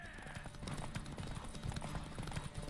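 Horse hooves clip-clop at a steady gallop in The Witcher 3 game, a rapid continuous rhythm of dull thuds over a low rumble, fairly faint throughout.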